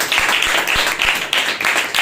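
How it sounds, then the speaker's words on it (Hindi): A church congregation at a Wednesday service claps together in a sustained round of applause lasting a couple of seconds, loud and steady with uneven individual claps. "एक जोरदार ताली बजा सकते हैं।"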